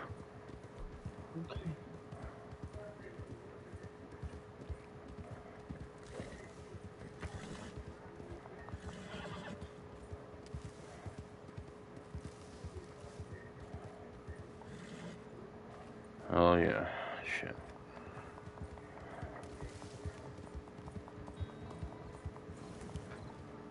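Horses in the video game Red Dead Online clip-clop steadily under faint background sound, and one whinny rings out clearly partway through; there is talk in the background.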